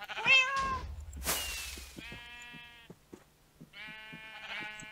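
Several sheep bleat in Minecraft on the Mineplex server, wavering game-sound bleats coming close and loud, first with a burst of noise, then two spaced runs of repeated bleating.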